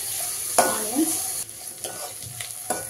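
Onions and coarsely crushed garlic frying in a pan for kakarakaya pulusu give a soft continuous sizzle, with a few scraping stirs of a spoon, close and without talk.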